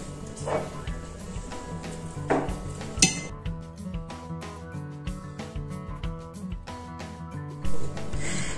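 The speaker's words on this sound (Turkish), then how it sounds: "Bakın zaman zaman karıştırarak şöyle homojen bir yapı elde edinceye kadar devam ediyoruz." Homemade honey hazelnut paste being stirred, with steady soft scraping and clinking of a utensil against the bowl, close and continuous, with a few sharper knocks.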